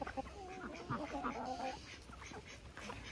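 A pet duck quacks close by in a run of short, nasal calls clustered in the first couple of seconds, then tapers off against a soft background.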